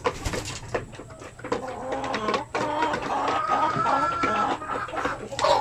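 Basilan native hens kept free range, clucking and murmuring continuously at close range against steady background noise, with no talking.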